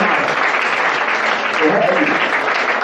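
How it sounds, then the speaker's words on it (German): Loud, dense audience applause fills a Cologne comedy show, steady throughout with chatter and voices mixed underneath. "Einen Applaus für dich"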